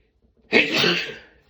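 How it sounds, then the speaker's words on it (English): A single sneeze from an adult man indoors, a sharp burst with a short fading tail, loud and close, heard alone with no talking. "I have to sneeze."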